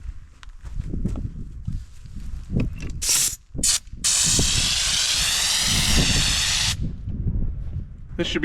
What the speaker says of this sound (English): let's hook it up to our spray gun and go try it outside and just see how good it sprays